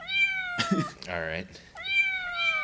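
Synthesized cat meow from a Moff Band wearable toy, with two high tonal electronic meows bracketing a burst of nearby talk, the sound effect loud and close.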